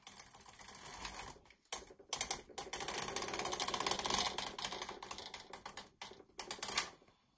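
Carriage of a Superba S47 knitting machine pushed slowly across the needle bed, giving a steady run of dense mechanical clicking and ratcheting with two or three short pauses, close and fairly loud, no voices.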